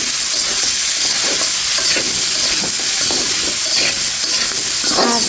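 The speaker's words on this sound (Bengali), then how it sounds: "আর চিংড়ি মাছটা কিন্তু অল্প ভাজতে হয়, বেশি একটা ভাজলে শক্ত হয়ে যায়।" Shrimp frying with potato, onion and green chili in a hot pan, a loud close sizzle with continuous hiss and repeated scraping stirs of a spatula.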